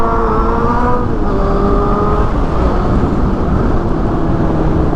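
A motorcycle fitted with an SC Project exhaust roars loudly and continuously at close range, its engine note rising and falling in pitch as it revs.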